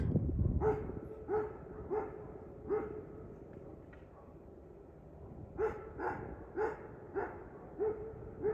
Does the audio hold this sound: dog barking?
yes